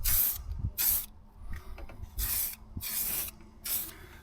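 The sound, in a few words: spraying paint onto a Ford Transit sill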